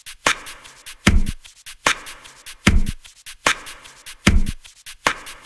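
Rapid papery hits and crisp rustling strikes made from toilet paper form a looping hi-hat and open-hat pattern, with bright shuffling bursts and a roomy reverb tail between beats.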